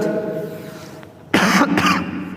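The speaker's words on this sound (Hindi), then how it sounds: "मुझे दिक्कत हो रही, खांसी हो रही।" A few sharp, loud coughs in quick succession, close to the mic, breaking through a quiet background hum.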